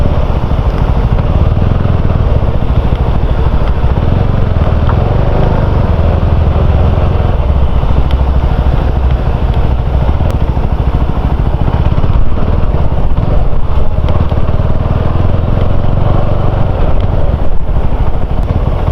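A CF Moto 250SR motorcycle is ridden steadily, its engine drone and wind rumble loud and continuous throughout with no clear gear changes or pauses.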